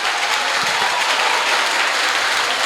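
Sustained audience applause at a church event, a dense, even roar of many hands clapping at once, steady and loud throughout with no pauses or voices standing out.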